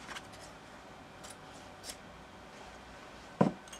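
Scissors snip through sewing thread once while men's trousers are being made, a single sharp close cut near the end of an otherwise quiet stretch with faint earlier rustles.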